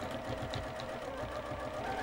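A sewing machine stitches a dress placket, its needle whirring in a quick, even mechanical rhythm close by for a couple of seconds, moderately loud with no voices.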